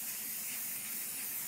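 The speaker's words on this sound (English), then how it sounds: "You can spray the pan." Cooking spray hisses from a can onto a baking pan in a kitchen, making a steady, soft, continuous spray with no pauses and no voices.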